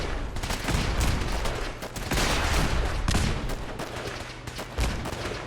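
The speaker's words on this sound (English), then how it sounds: "Let all the explosions do their thing." Dense gunfire and explosions fill a Fallout 4 firefight, with a continuous crackling barrage and heavier bursts that sound moderately distant.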